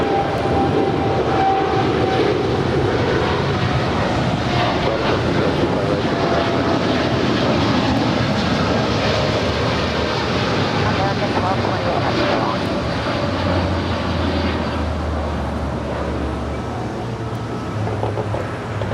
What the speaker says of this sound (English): 1228 Heavy departing to Miami. It's a 787-8 Dreamliner.